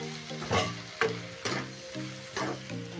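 Sliced onion with a little garlic sautéing in a pan: steady frying sizzle broken by about five rhythmic scraping stirs, close and alone.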